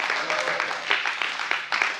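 A church congregation gives rhythmic applause, a brisk run of moderately loud claps with a voice carrying over the top.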